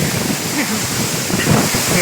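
Loud, steady roar of strong rushing water at a remote waterfall, close by and filling the whole soundscape as a dense, unbroken wash.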